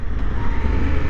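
Honda Africa Twin motorcycle running while gears are shifted with paddle shifters: a loud, close, steady engine drone with no distinct shift break, heard alone for about a second.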